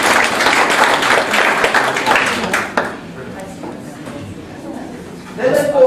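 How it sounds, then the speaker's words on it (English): An audience at a talk on SEO claps, a loud burst of applause for a few seconds that fades away, with a voice speaking over and after it. "Big round of applause"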